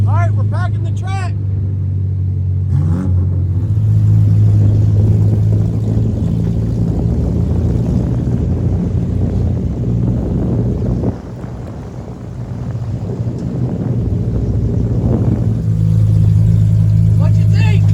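Dirt track race cars circle Baton Rouge Raceway to pack the track, a steady low engine drone with wind buffeting, rising and easing as cars pass, while people talk nearby.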